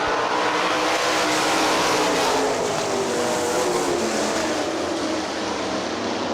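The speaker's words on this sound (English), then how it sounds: "20-lap main event for the SOD Sprint Cars" Sprint cars race a 20-lap main event on the dirt oval at Hartford Speedway Park, their engines roaring loudly and steadily in a dense, continuous drone with a slight swell as the pack passes.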